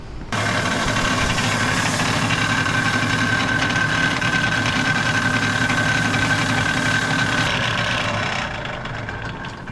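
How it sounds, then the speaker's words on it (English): A power-driven wire wheel scrubs a Yamaha Enticer snowmobile's clutch sheave, giving a loud, steady, unbroken grinding whir for about eight seconds before it winds down. No one speaks. "I don't condone using a wire wheel to clean up a sheave"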